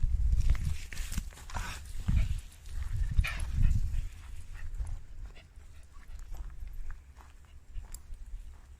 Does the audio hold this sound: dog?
yes